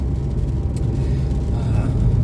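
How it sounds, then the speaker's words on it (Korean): Steady low engine and tire rumble heard from inside a car driving on a road on an overcast day with light rain, continuous and fairly loud throughout. "지금 차 운전 중인데 여기는 흐리면서 비가 살짝 오고 있습니다."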